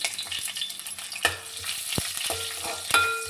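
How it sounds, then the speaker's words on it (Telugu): Green chillies sizzle in hot oil with tempering seeds for a cauliflower curry, a soft continuous frying hiss broken by a few sharp clinks and scrapes of stirring, with no talking. "ఇదిగో పచ్చిమిరపకాయలు కూడా వేస్తున్నాను"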